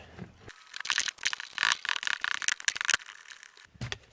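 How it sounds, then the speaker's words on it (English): Metal nuts being loosened with a 14 mm wrench on aftermarket struts of a 2001-2005 Toyota RAV4, giving close, irregular bursts of rattling, clicking and scraping with short pauses between. "I can just get in here with a 14 millimeter, take these nuts off of here"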